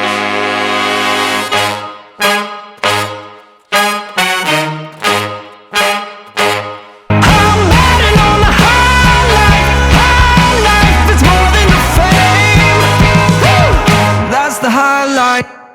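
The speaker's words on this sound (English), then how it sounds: "We have these horns here. And we have trombone, trumpets. We have alto sax, tenor sax, bari sax." Horn section of trombone, trumpets, and alto, tenor and baritone saxophones in a produced pop song, first playing short punchy stabs in a rhythmic pattern, then sustained full-band chords with loud mixed instrumentation.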